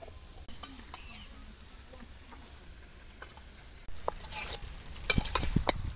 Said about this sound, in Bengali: এবার সুন্দরভাবে সবজিগুলো কষাইয়ে নেই।